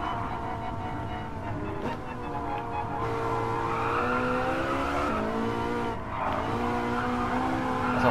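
Ferrari sports car engine in GTA 5, a continuous loud roar with rising and falling revs and gear-change dips, tire squeal blending in.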